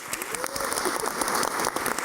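Brief, moderate applause from an audience at a literary gathering, individual claps audible as a quick patter with a faint tonal sound over it.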